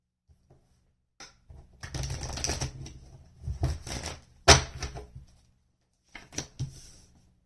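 Tarot cards are shuffled in several quick riffling bursts separated by short pauses, each one a crisp papery flutter, close and fairly soft, with no talking.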